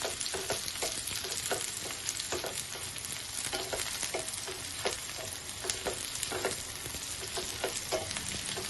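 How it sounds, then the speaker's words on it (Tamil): Mild chillies and small shallots fry in a pan for mutton chintamani, a dense continuous sizzle with rapid, regular spoon scrapes and taps repeating close up throughout. "100 கிராம் மிளகா, 100 கிராம் சின்ன வெங்காயம் ரெண்டுமே நல்லா வதக்கிடுங்க"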